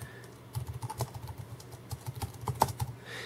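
Keys on a Microsoft Wedge Mobile keyboard are typed in an uneven run of soft, close clicks, with brief pauses between quick bursts.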